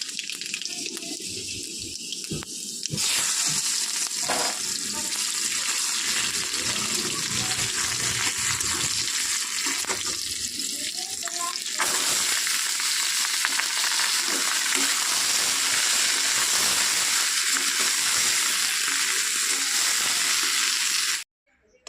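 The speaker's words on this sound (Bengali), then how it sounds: "তো এদিকে ঢ্যাঁড়সের তরকারিটা হচ্ছে" Okra curry cooking in a pan on a home stove, a steady close sizzle and hiss that runs almost continuously for about twenty seconds, broken by occasional stirring clatter, then stops abruptly.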